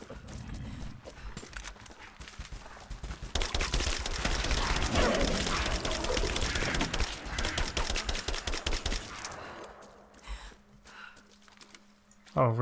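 Gunfire in the video game Rise of the Tomb Raider, with a dense, loud burst of rapid shots through the middle and scattered sharp cracks and clicks before and after.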